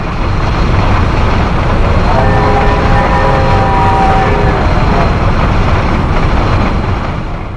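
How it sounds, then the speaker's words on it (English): Steam goods train 284, running from Rotorua to Frankton with four-wheel wagons, crosses the combined rail and pedestrian footbridge at Hamilton, New Zealand. A loud, steady rumble fills the whole stretch, with a high tonal squeal rising midway. "With-car goods train 284 from Rotorua to Frankton crosses the rail and pedestrian footbridge at Hamilton."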